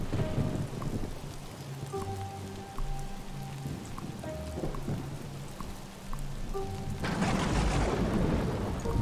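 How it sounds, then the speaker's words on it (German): In the video game Old Man's Journey, a thunderstorm brings steady heavy rain hissing throughout while a deep roll of thunder swells in near the end, with faint musical tones drifting underneath. "Was für ein Unwetter."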